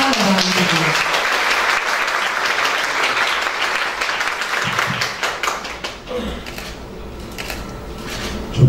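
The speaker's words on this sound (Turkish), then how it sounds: "Alkışlar davet ediyor." Loud, sustained applause from a large crowd at a Turkish hospital's 25th anniversary ceremony as the district mayor is welcomed, a dense wash of many hands that thins and tapers near the end.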